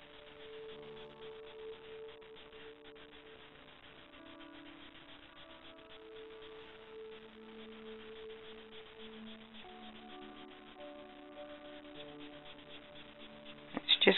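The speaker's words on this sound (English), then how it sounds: "Just going to blend that pigment, softens the pigment and the wax in the colored pencil and blends them out" Soft, steady rubbing of a blending tool or pencil over paper, smoothing colored pencil pigment and wax on a tangle drawing; quiet and continuous with no talk, ending in a few brief louder taps.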